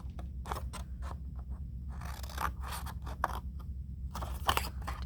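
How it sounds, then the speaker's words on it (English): Scissors snip and crunch through paper, cutting parallel slits for a pop-up card in a series of close, quiet cuts with small scraping sounds between them. "So I'm just going to cut directly on those lines."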